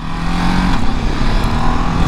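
A 2022 Ducati DesertX motorcycle rides along a street, its engine droning steadily and loud throughout with a constant low hum and broad road and wind noise, no talking.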